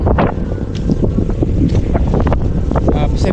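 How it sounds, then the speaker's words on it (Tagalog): Strong coastal wind buffets the microphone at a Coast Guard substation, a loud continuous rumble and rush with gusty swells throughout. "Ang hangin dito, sarap oh."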